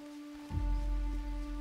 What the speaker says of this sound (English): But it's raining too.